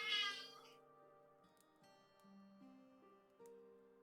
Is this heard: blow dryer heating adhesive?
no